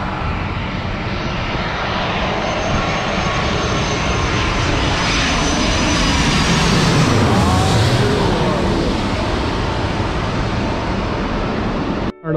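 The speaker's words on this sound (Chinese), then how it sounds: "这个是个大型客机" A large passenger airliner, an A320, passes overhead at Sanya Phoenix airport with a loud, sustained engine roar. The roar swells to a peak midway and then holds, filling the whole stretch with broadband noise.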